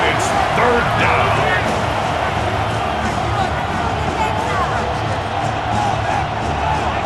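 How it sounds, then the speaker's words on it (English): Crowd in a Madden NFL 26 PS5 simulation of Los Angeles Rams vs Tennessee Titans, cheering steadily at a continuous stadium roar ahead of a third down, with a commentator talking over it. "This crowd into it now as we get to 3rd down."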